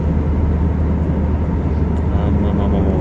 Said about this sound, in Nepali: तर अझै पनि प्लेन माथि नै उडिरहेछ।